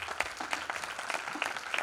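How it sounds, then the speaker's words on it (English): An audience applauds the authors at a defence literature festival, a steady, moderately distant patter of many hands clapping for about two seconds with no talking. "So a big round of applause to our authors"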